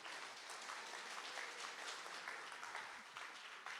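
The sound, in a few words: church congregation clapping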